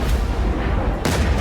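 Heavy explosions from bombs dropped on Iran, two deep booming blasts in quick succession, loud and rumbling with no voices.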